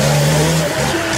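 An off-road 4x4 race car with a four-cylinder engine runs loud and close. The rough engine note holds, dips briefly and then picks up again over about a second.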